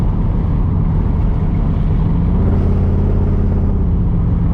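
A 1982 Camaro with a new exhaust cruises gently: a loud, steady low rumble with a continuous drone and no talking over it.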